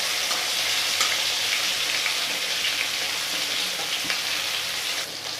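Chital fish frying in hot oil gives a dense, even sizzle like light rain, with scattered pops and crackles throughout, close and steady with no one talking.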